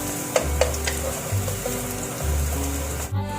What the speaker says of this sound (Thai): เอากระเทียมลงนะครับ กระเทียม้อาสับแล้วครับนี่ครับ เอากับมันเข้ากันเลยครับ